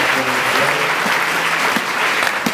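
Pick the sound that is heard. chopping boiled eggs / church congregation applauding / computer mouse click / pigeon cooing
church congregation applauding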